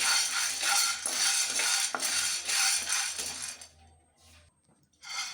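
Black chana dry roasting in a pan, close and fairly loud, with a steady rattling, scraping clatter of the chickpeas being stirred; the noise breaks off briefly near the end, then starts again.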